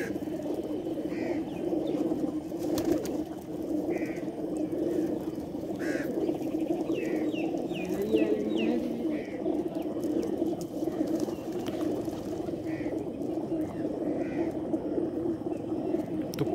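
Racing pigeons in a village setting give repeated soft cooing calls in short phrases, heard over a steady outdoor ambience with faint chirps and a constant low background hum.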